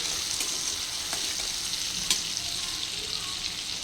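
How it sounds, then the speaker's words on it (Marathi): Frying onion with red chilli powder being stirred in, a continuous bright sizzle with occasional scraping stir clicks, close and steady without talk. "आता ह्यात मी लाल तिखट घालते आणि ते हलवून घेणार आहे"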